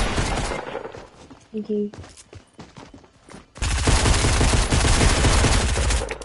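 Gunfire in Fortnite, rapid loud bursts of shots, sparse early then a dense sustained volley in the second half, with a brief spoken word mixed in.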